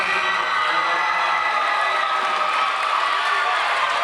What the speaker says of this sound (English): Andrew Stewart getting a nice round of applause as he checks out